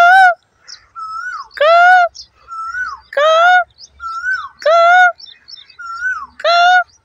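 An Asian koel calls repeatedly near a pear orchard in rural Pakistan, with loud, rising whistled notes answered by softer calls in a steady alternating rhythm, close and clear without talk.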